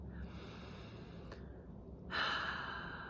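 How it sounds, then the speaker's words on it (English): A person takes one deep breath during a calm EFT tapping session. The breathing is soft and close, ending in a fuller, breathy exhale near the end, with no speech. "Deep breath."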